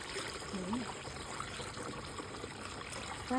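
Water streams steadily into a farm pesticide sprayer tank, a continuous close hiss and trickle with faint voices in the background.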